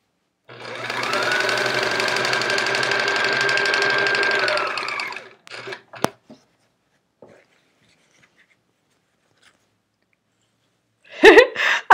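A sewing machine whirs steadily for several seconds, then stops, followed by a few small clicks and handling sounds and a brief rustle at the end.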